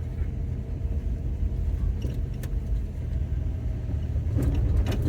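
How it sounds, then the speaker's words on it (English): A car cruising along a road on the northern Oregon coast, its engine and tyre rumble steady and close throughout, swelling slightly louder near the end. "but I gotta drive the damn car"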